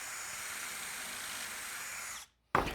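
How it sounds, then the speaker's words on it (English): A power drill whirs steadily at high speed drilling pocket holes in a wooden shelf, then cuts out abruptly; after a brief silence a louder burst of noise starts. "I'm going to drill it and put pocket holes in here"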